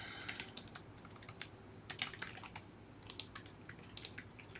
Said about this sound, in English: Is my keyboard broken?